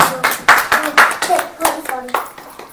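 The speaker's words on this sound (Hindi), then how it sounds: "ताली नहीं बजाएंगे?" Church congregation clapping in rhythm during a Hindi sermon, loud close sharp claps in a repeating pattern with voices mixed in among the beats.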